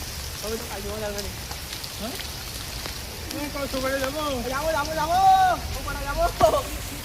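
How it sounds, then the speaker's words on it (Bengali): Steady rain patters and hisses throughout while people talk over it now and then. "কি বৃষ্টি হচ্ছে"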